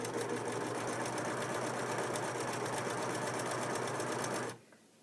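A Singer 4562T sewing machine runs a hem stitch in a steady, fast needle chatter that stays loud and constant, then cuts off abruptly near the end.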